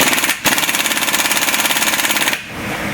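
Half-inch nano impact gun hammering on a car brake job on a 2007 Hyundai Accent, a loud rapid rattling burst lasting about two seconds with a brief break near the start, close and alone.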